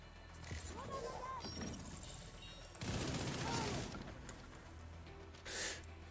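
Assault rifle fire in the video game The Division 2, bursts of rapid shots in several clusters with a short sharp burst near the end, over game ambience while someone talks.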